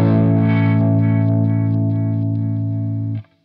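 A Yamaha Pacifica electric guitar with a crunchy, slightly distorted tone rings out one sustained chord that holds steadily for about three seconds, then is cut off abruptly.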